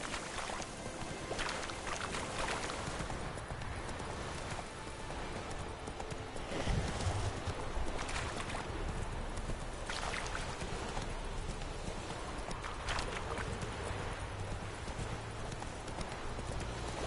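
The horse Roach's hooves clip-clop steadily in the Witcher 3 video game, with a muffled rhythmic trot under a broad rushing ambient wash of wind or water.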